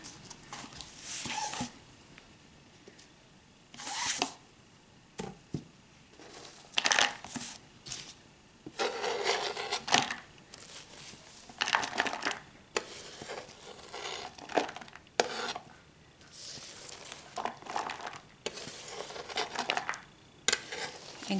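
A Martha Stewart knife slices through a cabbage on a cutting board, giving close, irregular crunching cuts that come in bursts with short pauses between them.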